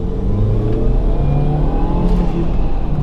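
Car engine under hard throttle, a loud continuous revving roar with rising whirring tones, steady and close throughout with no talk.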